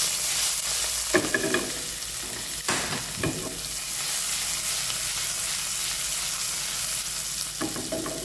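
Green chilies, curry leaves and coriander roots sizzle steadily in hot oil as a tempering for chicken dalcha, with a few louder stirring scrapes near the start and end over the continuous close frying hiss; no talking.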